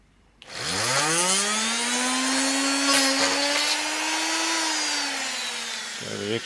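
A power drill bores into a 3D printed engine mount ring for a Meteor F.4 EDF model, a loud steady motor whine that rises at the start, holds for several seconds, then winds down.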